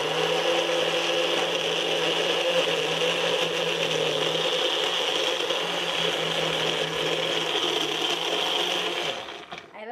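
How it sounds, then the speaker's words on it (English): A blender runs steadily at high speed for about ten seconds blending chocolate and blackberries, a loud continuous motor whine with churning, then cuts off at the end. "We just kind of threw a bunch of stuff in a blender"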